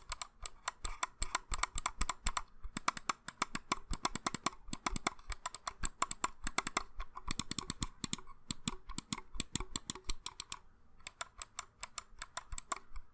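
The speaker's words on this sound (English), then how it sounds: "the right mouse button sounds a little more rattly and just not as good" A Drevo Falcon wireless gaming mouse gives rapid, rattly right-button clicks, a dense, steady stream of sharp, close ticks with a few brief pauses, quiet and without voices.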